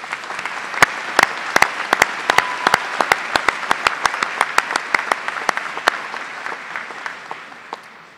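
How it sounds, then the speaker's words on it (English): A commencement audience at Washburn University claps for master's students in business and nursing, steady hall applause with distinct sharp individual claps standing out, holding even then thinning slightly toward the end. "Let's give our master's students a round of applause."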